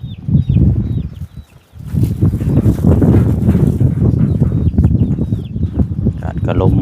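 Chickens, including two hens hiding together where eggs are kept, cluck in a steady, busy stream close by, with a brief quieter dip early on. A person talks over the birds.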